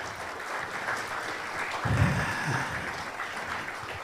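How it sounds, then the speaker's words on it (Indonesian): A crowd claps at an Indonesian community action gathering: a steady, moderately loud rush of applause with a brief swell near the middle, unbroken by voices. "Sekali lagi beri tepuk tangan buat mereka semua."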